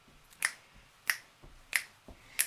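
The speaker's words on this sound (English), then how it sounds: "You can snap your fingers with me." Four crisp finger snaps sound at a steady, unhurried pace during a live family concert, each one sharp and close with nothing else in between.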